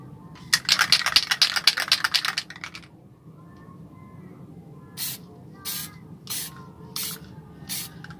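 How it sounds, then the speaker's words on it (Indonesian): Spray paint from an aerosol can hisses onto a Gundam model part in a long burst of about two seconds, then comes in five short, evenly spaced puffs applied in light coats. "Pelan-pelan aja kita semprotnya tuh, dikit-dikit aja, lapis per lapis"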